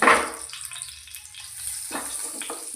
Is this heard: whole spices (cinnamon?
yes